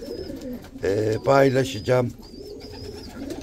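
Pigeons in a coop giving low, rolling coos, a burst of throaty calls in the middle with faint chirps around it, while someone speaks briefly nearby.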